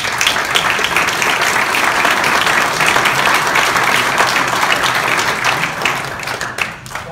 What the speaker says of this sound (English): that wasn't a good enough round of applause